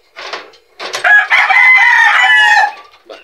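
A rooster crows loudly and close by, one drawn-out call after a few short clucks from the chickens, with a brief cluck at the end.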